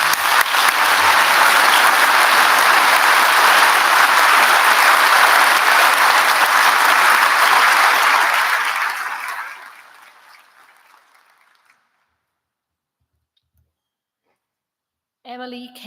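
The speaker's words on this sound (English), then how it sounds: "And a round of applause for that group of students." Loud, dense applause from a large graduation audience for a group of graduating students, sustained for several seconds before tapering off into silence, then a voice briefly speaks at the end.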